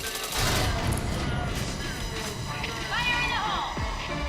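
Rapid gunfire from a shooter video game, a dense continuous rattle of shots with high ringing tones and whooshing effects, loud and steady throughout, with voices talking over it.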